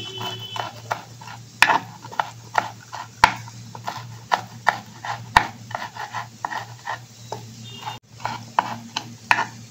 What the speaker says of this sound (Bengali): ওই দিক থেকে কেটে নিয়ে আমি আরও বারবার করে এটাকে কুচি করে নিচ্ছি।